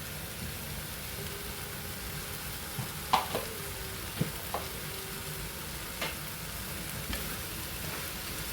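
Bottle gourd curry being stirred in a pan after a half teaspoon of chili powder and green chilies are added, with a faint steady sizzle and a few soft scrapes and clinks of a spoon against the pan.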